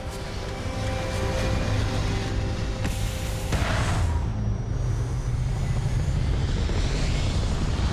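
Spaceship liftoff in Starfield, a loud steady engine roar and rumble that swells partway through with a whooshing surge and holds on without pause.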